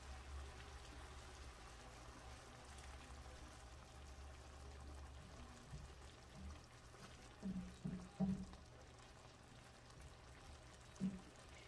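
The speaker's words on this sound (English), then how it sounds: "And I'm adding also water, hot water." Hot water poured into a pan of salmon belly adobo with dark soy sauce, a faint steady trickle under low kitchen noise, with a few brief splashy clunks near the end.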